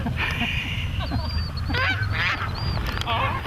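A goose honks repeatedly outdoors, a run of loud, close nasal calls rising and falling over steady low background rumble, with no talking.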